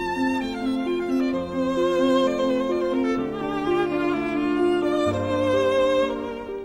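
Opening theme of Beethoven's Spring Sonata played on violin with piano accompaniment, a flowing lyrical melody over steady chords, clear and close with no talk.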